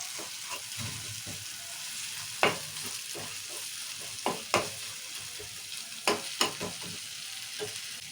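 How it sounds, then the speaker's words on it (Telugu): Ginger garlic paste fries in a pan under a low steady sizzle, with repeated spoon scrapes and taps against the metal as it is stirred, close and moderately loud. "ఇప్పుడు అల్లం ఎల్లిగడ్డ పేస్ట్ వేస్తున్నా. ఒకసారి కలుపుకుందాం"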